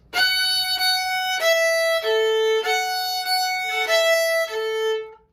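A violin plays several loud, harsh notes bowed too quickly, each heavy and scratchy, descending and rising again with no gentle lightness.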